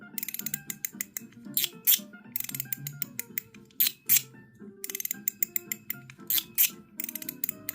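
Titanium mechanical slider fidget with Teflon being worked by hand, giving rapid sharp metallic clicks and snaps in repeated bursts separated by brief pauses, close and crisp.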